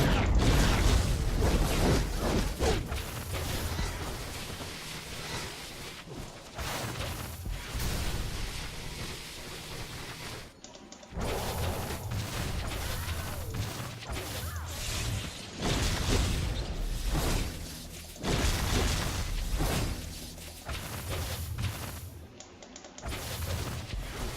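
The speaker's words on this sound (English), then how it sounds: "If you do a standard hand blast and then a standard attack, you'll do this." Ranged hand blast attacks and a follow-up standard attack combo in DC Universe Online produce a dense, continuous wash of game sound effects. Whooshing bursts and booms run almost without pause, with only brief gaps.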